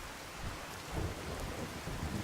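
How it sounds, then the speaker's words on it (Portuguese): Steady rain pours in the Far Harbor expansion of the video game Fallout 4, with low rumbles of thunder rolling underneath, a soft, continuous wash with no voices. "Tá chovendo pra variar."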